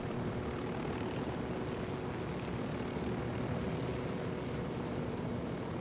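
A helicopter guarding a convoy in the Ghost Recon Wildlands video game drones steadily at a distance, a continuous low rotor and engine rumble with no other sounds on top.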